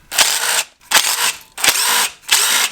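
A power drill or impact tool loosens the bolts holding an ignition coil pack on a car engine during a coil-on-plug kit install, with four loud, close bursts of whirring separated by short pauses, and no talking.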